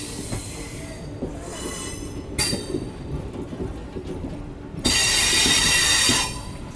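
The Mahananda Express rolls into a platform at Katihar with a steady rumble of wheels on track, punctuated by sharp, loud bursts of wheel squeal and brake hiss, the last one sustained.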